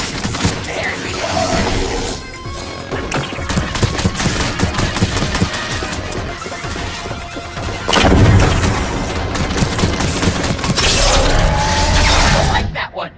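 Explosions and blasts from the video game Revenge of the Savage Planet, loud and dense throughout with repeated crackling bursts and a heavy boom near the middle, layered with game sounds and talk.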